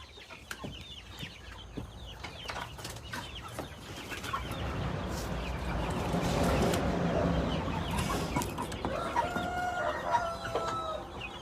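Chickens cluck and squawk at fairly close range in a noisy outdoor setting, the fowl sounds swelling into a dense burst midway and continuing with scattered calls.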